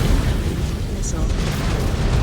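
Missile explosion in Mechwarrior 5 with the Clans DLC, a loud continuous rumbling blast filling the whole moment amid battle noise.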